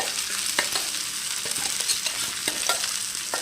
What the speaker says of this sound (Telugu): ఇప్పుడు తెల్లపిండి మనం ముందుగా పెట్టుకున్న తెల్లపిండి ఇందులో తాలింపులోకి మార్చుకోవాలి